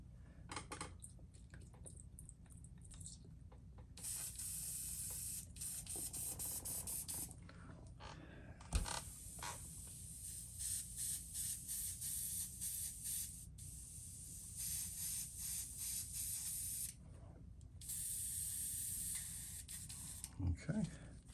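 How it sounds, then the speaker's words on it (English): Airbrush spray gun being cleaned out after painting a shad fishing lure, giving repeated bursts of loud hissing spray separated by short pauses, with occasional light clinks of the paint cup. "So we'll clean our gun out"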